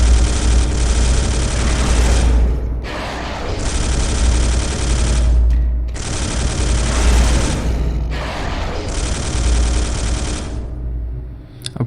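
Space Hulk (2013) video game gunfire, sustained heavy automatic bursts roaring in four long volleys separated by short pauses, loud and close with a deep booming low end.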